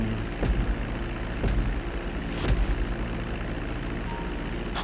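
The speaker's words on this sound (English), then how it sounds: "Start reducing the plane's altitude gradually so you're just above the runway as you approach." A plane in GTA V descends toward a runway to land, its engine a steady, fairly loud drone with a few faint thumps over it and no talk.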